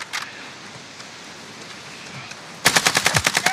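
Machine gun fire in the video game Warzone: a rapid burst of about ten sharp, evenly spaced shots cuts in near the end after a quiet stretch of faint background noise.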